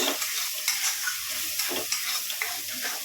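Chicken, egg and Maggi noodles fry together in a pan with a busy sizzle, and quick, repeated scraping strokes of stirring come close to the mic.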